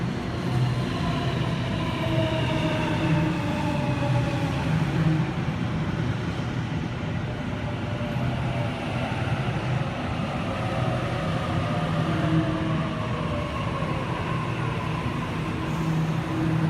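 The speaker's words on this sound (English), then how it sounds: "We have a Waratah approaching platform 5 for a Hornsby service." A Sydney Waratah electric train approaches and arrives at a platform at Blacktown station. Its steady rolling rumble and rising and falling motor whine carry on throughout, close and loud, with no voices.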